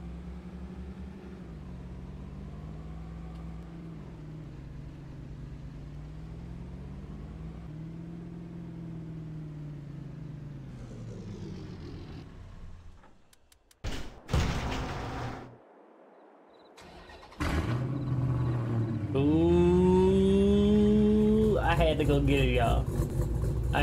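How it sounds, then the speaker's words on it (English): Trucks in Farming Simulator 22 crank over with sharp bursts, then settle into a loud, steady engine rumble, with someone talking over the running engines throughout. "get the trucks warmed up to haul some corn"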